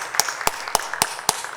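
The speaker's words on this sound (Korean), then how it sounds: "박수로 영광 올려드리겠습니다." A congregation in a Korean Sunday church service claps to give glory. Six sharp, even claps land in a steady rhythm, close and distinct, over a quiet background.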